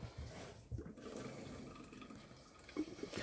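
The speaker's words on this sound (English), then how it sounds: "open all the taps up so the water runs completely out of the system" Water trickles and gurgles faintly as it drains from the taps of a 2015 Lunar Lexon 470 caravan, with occasional soft glugs of air, steady and quiet.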